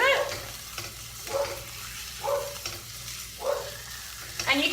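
Chicken breast fries in a pan on a stove, a soft steady sizzle broken by four or five short bursts of louder crackling and spattering.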